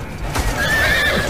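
In a medieval battle at the walls of Mallorca, a horse whinnies loudly over the thud and clatter of hooves, brief and close.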